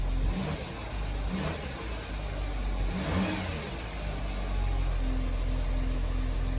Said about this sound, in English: let's fire this beast up. See what it'll do. Yep, sounds like an Audi.